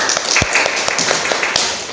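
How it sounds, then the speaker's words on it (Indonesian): Classroom students at a vocational school clapping for a classmate named Juliani, brisk dense applause with a few sharp individual claps, loud and close for about two seconds. "Boleh anak-anak berikan tepuk tangan dulu untuk Juliani."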